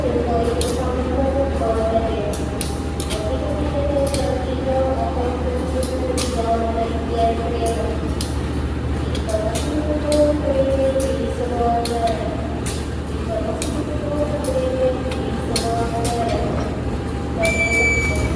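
A CC203 locomotive couples to Sri Tanjung train cars, with a steady low rumble of idling diesel, scattered sharp metallic clanks and knocks, and people talking throughout.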